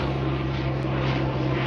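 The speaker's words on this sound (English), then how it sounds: "We've got a plane flying overhead." Propeller plane passing overhead at a classic car show at Gaydon: steady, loud engine drone throughout with a deep low hum, and no voice.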